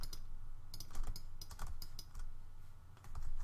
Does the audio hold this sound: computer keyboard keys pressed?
yes